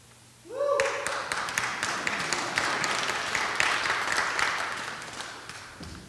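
A Presbyterian church congregation breaks into loud, sustained clapping, a dense crowd of overlapping handclaps that starts suddenly and continues steadily for several seconds.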